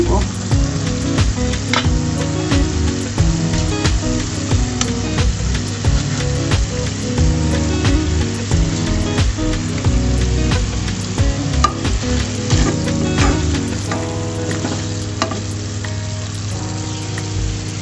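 Aair catfish pieces frying in oil in a pan, a steady loud sizzle with crackling pops and occasional utensil scrapes running throughout.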